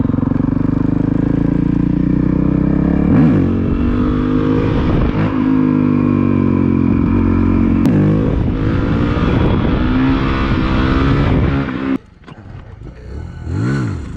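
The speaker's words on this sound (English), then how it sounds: "We'll do some wheelies on this private property" Honda Grom motorcycle revving hard during wheelie practice on private property, loud and close, with repeated rising throttle blips before the engine drops off near the end.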